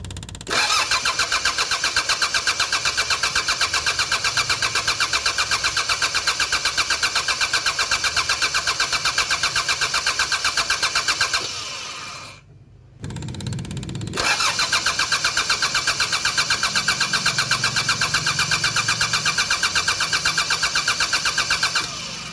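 A Mitsubishi 4D56 diesel engine cranks continuously with a rapid, even churning beat while fuel lines are bled, stops briefly for about two seconds, then cranks again for a long stretch.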